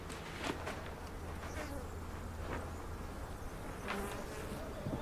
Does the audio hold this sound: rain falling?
no